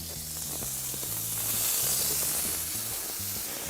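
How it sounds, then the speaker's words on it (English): Bacon-wrapped elk skewers sizzle on pellet grill grates, a steady close hiss and crackle with soft irregular pops and no talking. "get this bacon sizzling on them"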